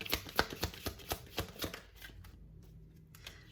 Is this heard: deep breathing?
no